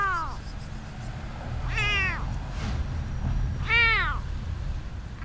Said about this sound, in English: it was lying helplessly inside a fruit crate, meowing for help